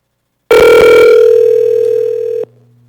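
A steady, loud telephone dial tone sounds for about two seconds while a call is placed to testimony participants at a public hearing, then cuts off abruptly, leaving faint background hum.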